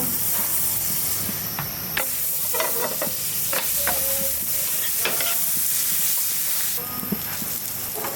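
Paratha frying in butter in a pan gives a steady sizzle throughout, with scraping and stirring clicks scattered over it and brief louder bursts of hiss near the start and near the end.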